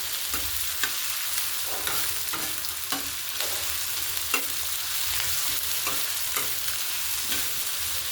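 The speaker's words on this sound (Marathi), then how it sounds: "तेलात तवा गरम जास्त झाला होता, त्याच्यामुळे पटकन कांदा आपला फ्राय होणार आहे" Onion fries in plenty of oil on a very hot pan, a constant bright sizzle broken by regular scraping stirs roughly every half second to second, close and steady with no talking.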